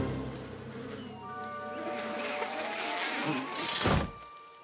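A swarm of cartoon bees buzzes in a My Little Pony animated scene, a droning, wavering hum that swells and grows louder before cutting off abruptly.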